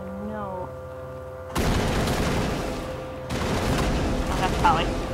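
Gunfire in the video game Mass Effect: after a quiet start, a loud, dense barrage of shots and blasts kicks in and carries on, briefly easing before a second heavy burst.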